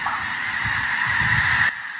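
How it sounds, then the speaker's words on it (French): Birds heard through a replayed video honk repeatedly like geese, a dense, continuous clamour of overlapping calls that cuts off abruptly near the end. "on a ici cette autre vidéo où on voit des oiseaux"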